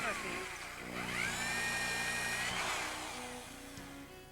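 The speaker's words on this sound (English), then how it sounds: "you're going to drill 3 holes in your panel from the back side" A power drill whines up to speed and holds a steady high pitch, then winds down, close and fairly loud, while drilling holes into the back of a panel.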